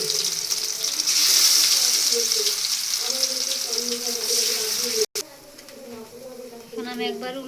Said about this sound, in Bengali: চুলায় একটি তাওয়া বসিয়ে দিয়েছি, এখন আমি ভেজে নেব।